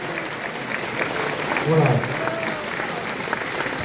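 Audience applause greets newcomers standing up at a camping-car owners' gathering in Malestroit, a steady crowd of clapping that fills the whole clip while someone speaks briefly over it.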